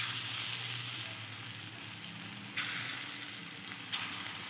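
Steady sizzling of small lentil-paste fritters frying in hot oil in a wok for bottle gourd bara, a dense hiss with faint bubbling and occasional stirring sounds.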